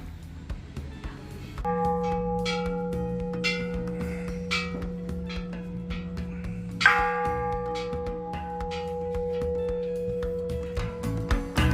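A deep Thai temple bell in Bang Saen rings with long, sustained humming tones, then a second strike near the middle swells the resonance again, ringing on steadily.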